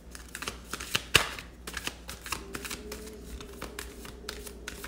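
Cards riffled and shuffled close by, a quick papery flutter of many short clicks, with one sharper snap partway through and no voices.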